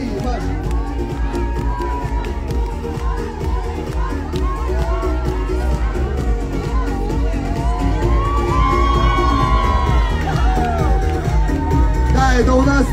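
A dense, loud crowd at a concert in Almaty chants and cheers continuously, a wall of shouting voices and whoops filling the space from start to finish.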